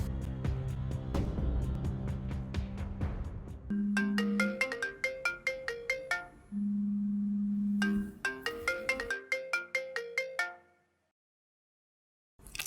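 A telephone ringtone plays while a call is being placed, a melodic electronic tune of rapid plucked notes and held tones that repeats in bursts, then stops for a moment of silence near the end.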